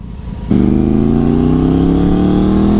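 A KTM Duke 390 motorcycle's low engine idle suddenly swells into a loud, sustained rev, the motor's pitch climbing steadily and close by.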